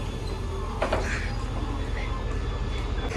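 Passenger train QSY 5227 bound for Bangkok, heard from on board as a steady low rumble with rhythmic rail noise and a brief rattling burst near the middle.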